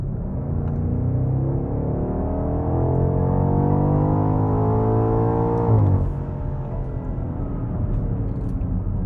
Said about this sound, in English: how the car accelerates.